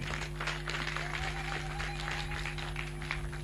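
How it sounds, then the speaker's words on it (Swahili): Applause from an exhibition crowd honouring the Democratic Republic of Congo at a Jua Kali exhibition, steady dense clapping throughout with a faint background hum. "Basi tumupigie makofi."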